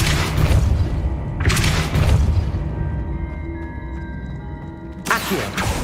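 A Depulso force spell is cast repeatedly in Hogwarts Legacy, producing three separate whooshing blasts with deep thumps, spaced a second or more apart, with quieter tonal game ambience between them.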